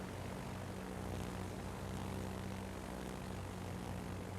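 Attacking planes' propeller aircraft engines drone continuously in World of Warships, a steady dense roar with no talk over it, holding even loudness for the whole stretch.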